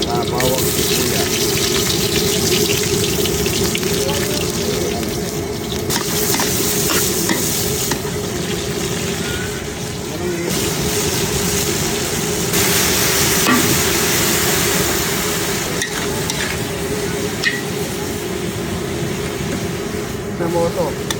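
Garlic and onion sautéing in a pan give a loud, continuous sizzle close by, overlaid with repeated scraping and stirring of a utensil against the pan, with a steady hum underneath.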